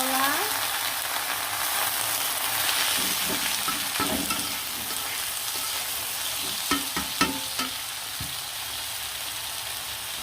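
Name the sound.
bitter gourd slices frying with garlic and onion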